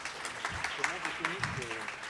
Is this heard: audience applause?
yes